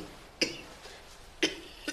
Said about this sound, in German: Nicht husten, bitte.